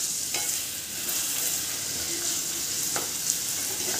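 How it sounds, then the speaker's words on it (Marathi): Chopped onion sizzles and fries steadily in a hot pan as it is sautéed until golden, a continuous close crackle with a few faint stirring clicks and no voices. "कांदा आपल्याला छान गोल्डन होईपर्यंत परतून घ्यायचा आहे"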